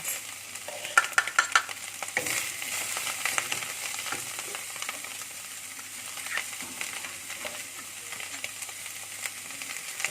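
Shallots, celery leaves and spring onion leaves fry in a pan for Taiwanese lu rou fan while being stirred, a steady close sizzle broken by quick scraping and clinking of the utensil, no talking.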